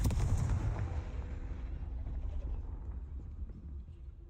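Fiery Confringo blast spell from a magic video game, a loud explosive boom at the start that rolls into a long rumbling decay fading over several seconds.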